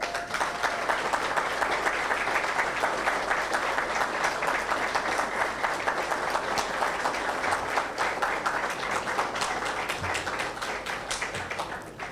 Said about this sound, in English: ask the faculty to stand up and ask you for a round of applause for the faculty